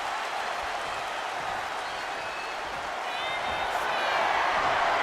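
A wrestling event crowd roars continuously, a dense mass of cheering and shouting that builds slightly louder toward the end, with scattered whistles and calls within the din.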